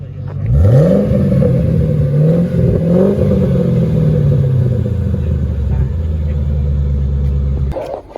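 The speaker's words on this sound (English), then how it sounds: "Just give it a little blip, Chris." A car engine revs on a dyno at a summer dyno day, rising in a loud blip, dropping, revving again, then settling into a steady rumbling idle up close.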